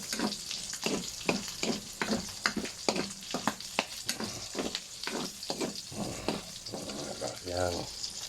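Onions frying in a pan for pinakbet crackle and sizzle close up, broken by a rapid, rhythmic run of scraping stir strokes. A brief voice is heard near the end.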